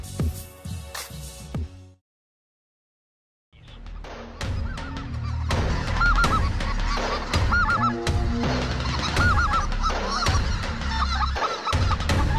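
Speckle-bellied geese honk in early season in Stuttgart, Arkansas: a few calls, a short silent gap, then a dense, loud, continuous chorus of overlapping honks and yelps from a flock.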